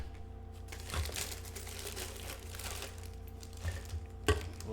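A plastic bag crinkles and rustles steadily while an ONKO Digital egg incubator is unboxed, with a few sharper crackles standing out near the end.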